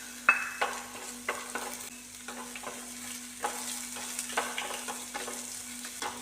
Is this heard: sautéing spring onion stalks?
yes